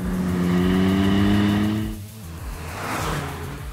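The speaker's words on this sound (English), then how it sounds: "you can hear the exhaust outside a lot more than what you can hear on the inside" A 2024 Hyundai i20 N Line manual engine revs up with a throaty, rumbling sporty exhaust heard from outside, dips briefly, then climbs again, loud and close.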